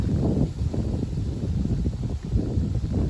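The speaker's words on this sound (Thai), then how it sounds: "ได้ยินเสียงลมไหม" Steady wind gusting and buffeting a microphone, a constant low rumble with no other clear sounds.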